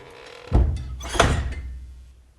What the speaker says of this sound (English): Damn, the door was that tight.